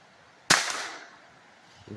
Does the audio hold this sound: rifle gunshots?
yes